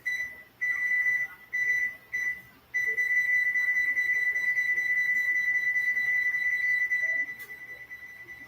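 A kitchen timer beeps while being set, giving a few short chirps followed by one long steady electronic tone that ends abruptly, quiet and close.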